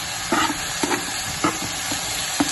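Chicken with tomato and green chili sizzles in a pan while a spoon stirs it, giving a steady fry hiss broken by four or five short scraping strokes close by.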